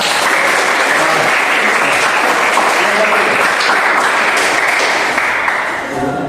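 Clapping from a group gathered for a floor gymnastics session, loud and continuous, a thick wash of many hands that holds steady before easing slightly at the end.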